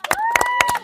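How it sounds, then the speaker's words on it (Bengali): An audience at a village money-prize game show claps in a short, quick burst of sharp hand claps for a contestant, with a faint whistle-like tone running underneath. "সকলে একটা হাততালি"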